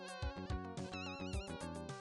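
Dense electronic buzzing from the System Shock video game, a steady wavering synth-like drone with pulsing rhythm, alone and fairly loud throughout.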